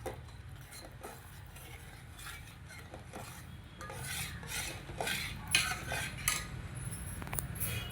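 A metal spoon stirs water into amaranth leaf curry in a cooking pot, making soft repeated scraping and clinking against the pot. The strokes are quiet and close, growing busier toward the end, with no voices.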